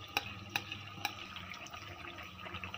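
Spiced beaten yogurt being stirred into frying pickle, with faint scraping strokes over a steady low sizzle and a few sharp clinks of a spoon on the pan.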